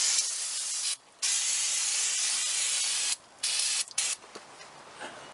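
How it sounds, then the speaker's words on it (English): Brake cleaner sprays from an aerosol can into the rear drum brake of a 2007 second-generation Toyota Prius, blasting out brake dust in long close hissing bursts broken by brief pauses, then tapering into short spurts. "use some type of brake cleaner. Spray all that brake dust out of there."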